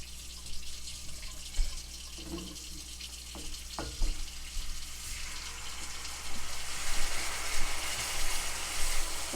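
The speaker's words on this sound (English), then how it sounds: "Let me just get some water." Water from a kitchen tap runs and splashes into a container while soul-food smothered pork chops are being made, a soft steady gush that swells louder toward the end, with a few faint knocks early on.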